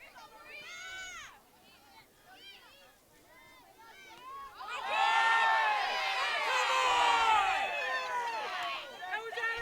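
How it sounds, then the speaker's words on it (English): Home crowd at an Iowa 3A girls' high school state soccer quarterfinal shouts loudly and continuously, a sustained surge of raised voices calling out over several seconds, preceded by a commentator talking. "Crowd's calling for a high kick."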